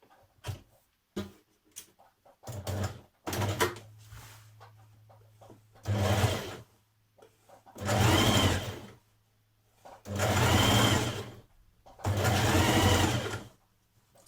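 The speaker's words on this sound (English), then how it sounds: "I'm going to do a narrow machine hem on here." A sewing machine stitches a narrow machine hem on a Burda 6319 skirt, running in four loud, sustained bursts of a few seconds each, preceded by short stop-start runs and brief pauses between them.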